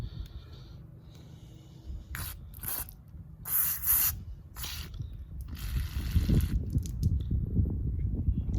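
Brake cleaner sprayed from an aerosol can into the carburetor of a Honda GCV160 engine, several short sharp hissing squirts up close, separated by pauses and followed by rustling handling noise.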